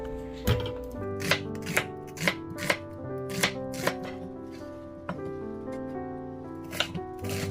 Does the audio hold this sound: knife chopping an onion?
yes